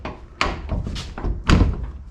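A Nissan Gloria car door, refitted beside a newly installed quarter panel, is swung shut, giving a few close, solid thunks in quick succession, the last one the heaviest as it latches.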